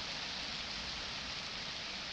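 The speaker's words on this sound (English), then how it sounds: "The rain effect is awesome" Steady rain from the post-apocalyptic video game 35MM on Xbox Series S, a soft continuous hiss of falling water, fairly quiet and even throughout, with no talk.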